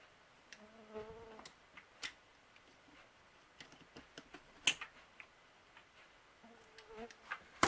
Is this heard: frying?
no